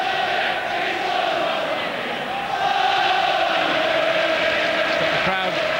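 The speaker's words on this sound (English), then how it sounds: "Got the crowd brought back to life again" A football crowd at a Leicester match roars and murmurs in a sustained, dense wash of noise after a goal, loud and continuous, with a commentator's voice faintly mixed in.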